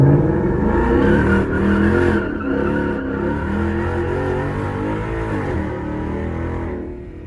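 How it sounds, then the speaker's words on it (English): A 2024 S650 Ford Mustang and a 2020 Mustang GT on a side street, one roaring through a sustained burnout whose loud exhaust drone echoes off a nearby wall, with revving and tire squeal steady for several seconds before easing off. "The exhaust is just echoing off of this wall over here."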